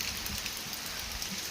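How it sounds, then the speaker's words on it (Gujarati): Heavy monsoon rain falling steadily, a dense, even hiss of drops hitting surfaces, close and continuous without a break. "વરસાદ પણ બહુ વધી ગયો છે"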